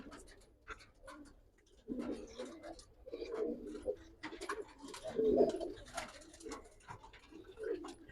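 Silver-coloured Giribaz pigeons coo in low, rolling bursts, several overlapping calls close by, with quiet gaps between them.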